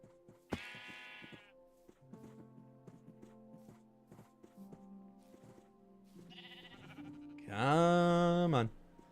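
Sheep in Minecraft bleat in wavering, nasal cries, one short call near the start and a louder, longer one near the end, with soft clicks and game sounds in between.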